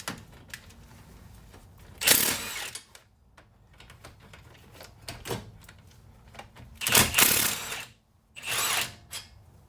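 Power tool loosening the 17 mm caliper bracket bolts on a Toyota Camry during a brake pad and rotor job, several loud whirring bursts with quieter clicks and handling noises between them.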